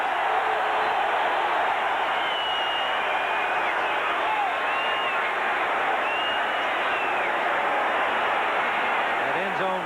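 A football stadium end zone crowd at a Bears versus Packers game in Green Bay roars in a steady, dense wall of cheering that holds for about ten seconds without letup.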